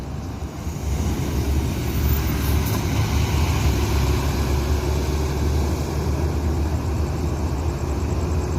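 ANS intercity bus pulling into Solo bus terminal, a loud steady diesel engine rumble held close throughout, with no talk.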